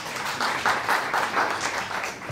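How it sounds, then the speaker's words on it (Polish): A civic meeting audience applauds on request: a moderate burst of clapping with slightly pulsing intensity, fairly close and loud, and no talk on top. "Proszę jednak o brawa."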